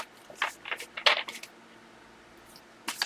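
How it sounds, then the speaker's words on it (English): Tarot cards dropping and scattering: a quick flurry of light slaps and flicks in the first second and a half, then quiet, with another brief rustle at the end; close and fairly soft, no talk. "Oh, I'm dropping cards."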